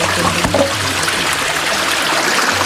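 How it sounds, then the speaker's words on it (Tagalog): Water rushes steadily out through an opened sluice gate at a crab fishpond, a continuous broadband gushing and trickling that stays at an even level throughout with no speech. "Kukunan natin ng siradura. Pwede na. Para release natin yung tubig."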